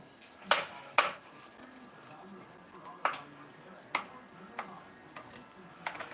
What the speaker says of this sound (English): scrape the skillet with the metal